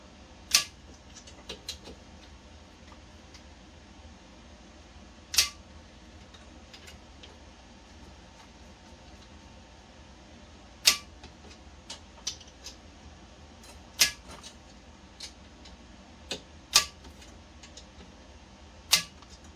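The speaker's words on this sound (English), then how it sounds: "we've got our Wheeler action wrench set to 30 inch-pounds, and that's what we're going to torque these Picatinny rail screws to" A Wheeler action wrench set to 30 inch-pounds torques Picatinny rail screws on a Remington 700 XLR, producing sharp, isolated clicks spaced irregularly over a quiet background.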